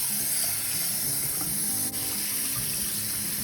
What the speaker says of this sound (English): give it a good rinse under some cold running water